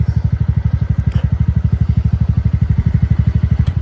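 A motorcycle engine chugs steadily up close with a fast, even rhythmic thump, loud and continuous, with no voices over it.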